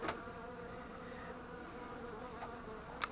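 Buckfast honey bees humming steadily at an open hive in early spring, a dense continuous drone with a few louder bees passing close to the microphone.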